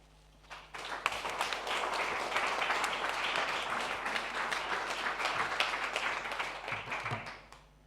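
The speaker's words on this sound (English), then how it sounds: "there was a big applause for your presentation" A crowd applauds the end of a lecture on transformative learning in economics. The clapping swells quickly, holds as a steady wash of many hands, then tapers away, fairly faint overall.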